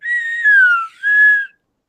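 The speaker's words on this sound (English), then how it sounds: "I'm gonna do a full drag of the slide whistle, and you'll hear it go back up to the high pitch sound at the end" A cheap three-dollar slide whistle dragged through its full range, a loud, pure, wavering tone that dips lower, breaks briefly, then rises again before stopping abruptly, alone.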